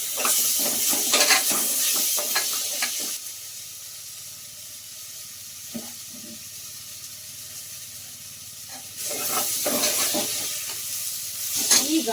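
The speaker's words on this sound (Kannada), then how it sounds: "ಇವಾಗ ಸ್ವಲ್ಪ ಶುಂಠಿ ಬೆಳ್ಳುಳ್ಳಿ ಪೇಸ್ಟ್ನ ಒಂದು ಸ್ವಲ್ಪ ಹಾಕ್ತಾ ಇದ್ದೀನಿ" Ginger garlic paste sizzles loudly as it hits hot oil in a pan, a bright crackling hiss that eases into quieter stirring, then flares up again near the end.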